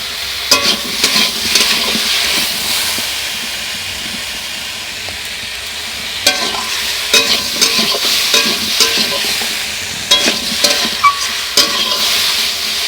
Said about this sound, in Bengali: আমি হালকা হালকা জ্বালনে পটল ঝিঙ্গাটা ভাজা করি